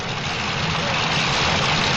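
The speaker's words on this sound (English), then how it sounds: "Good-looking truck backing up to the sled now, Dave." A 1986 Ford pulling truck at a tractor pull, its prepared engine idling with a steady, loud low rumble that holds constant throughout, with no speech over it.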